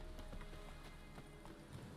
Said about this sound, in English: Horse, where's my horse?